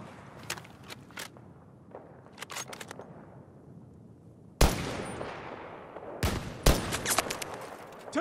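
Battlefield 2042 gunfire, scattered sharp shots at moderate distance over a low battlefield rumble, then several louder, closer bursts toward the end.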